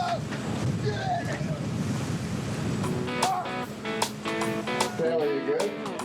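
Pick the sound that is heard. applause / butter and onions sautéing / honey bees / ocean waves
ocean waves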